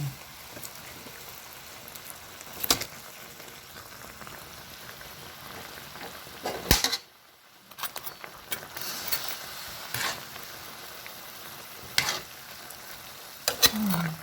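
Tilapia fish sizzles in a pan of hot oil with a steady crackling hiss, broken by sharp pops and spatters and a brief quiet dip partway through.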